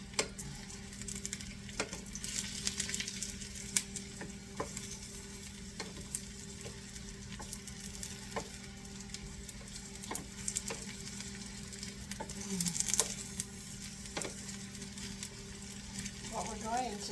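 Onions and currants sauté in a pan for polenta, a continuous soft sizzle and frying hiss with occasional stirring clicks and light ticks throughout, fairly quiet and steady.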